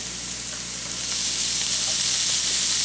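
Ground beef frying with onions in a pan, a dense, loud, even sizzle filling the short stretch with no voices.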